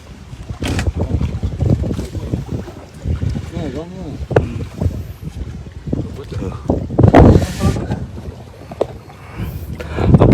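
Strong wind buffets the microphone beside a harbour channel as waves slap and churn nearby, with a loud, gusty roar that swells and dips under intermittent speech.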